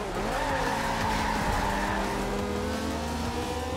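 Ferrari racing in Forza Horizon 2 with a steady loud engine drone, rising revs and tire skidding throughout, continuous and close with no talk.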